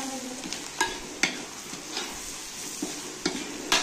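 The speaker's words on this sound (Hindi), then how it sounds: "जीरा और सौंफ, हल्का सरसों और प्याज वगैरह डाल दिया है, और ये गोटा गोटा मिर्चा बहुत तीखा हुआ, ये मैं भूज रहा हूँ अभी पोहा का" Cumin, fennel, mustard seeds, onion and hot chillies sizzle in hot oil for poha, stirred with sharp scraping clinks of a spoon against the pan every second or so over a steady frying hiss.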